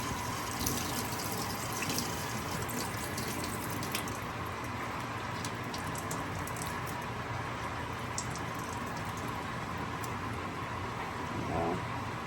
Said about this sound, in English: Rinse it off with cold water, and then just squeeze off any of the residual juice.